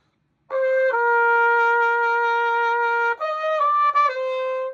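A solo trumpet sustains a clear, steady note, then a quick ornamental grace note flicks in just before it settles onto a new held pitch.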